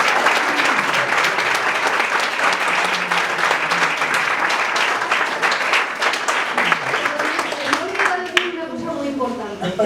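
An audience at a spring concert applauds warmly, dense clapping filling the room before it thins out while a voice begins speaking near the end.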